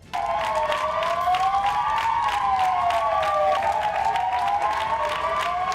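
Doctors and hospital staff gathered outside a hospital in Spain clap together in sustained, even applause, with a siren wailing up and down through it from start to finish.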